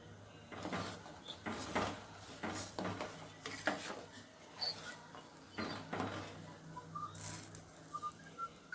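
A cooking pot of tamarind lentil soup (pappu charu) is swapped for a bigger one in a home kitchen. A series of clanks, scrapes and knocks of metal vessels sound close by, spaced irregularly across the stretch with quiet gaps.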